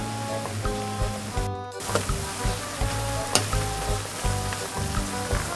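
Pork belly frying in oil over medium heat, a steady loud sizzle with crackling pops and the occasional scrape of stirring, with no voices.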